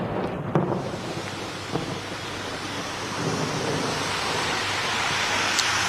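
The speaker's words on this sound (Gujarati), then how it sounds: "વહેલી સવારથી ધીમી ધારે વરસાદ ફરીથી શરૂ થઈ ગયો છે" Light monsoon rain falls steadily in Rajkot in a continuous broad hiss, with a few low rumbles and knocks early on, no voices.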